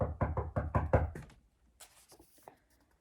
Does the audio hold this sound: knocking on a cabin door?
yes